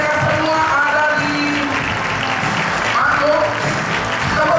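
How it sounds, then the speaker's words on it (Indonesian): An audience at a corporate agency goal-setting event applauds steadily while members stand on stage, a continuous wash of clapping under crowd noise and talk. "Boleh kasih tepuk tangan Bapak Ibu"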